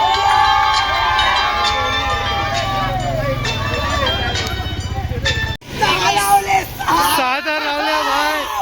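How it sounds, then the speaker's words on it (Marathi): Crowd at a Dahi Handi festival cheering a seven-tier human pyramid, a dense outdoor roar of shouts and whistles with someone talking loudly over it, briefly cut then resuming. "सात हार लावले भाई, जल्लोष बघा जल्लोष, 7 हारांचा जल्लोष।"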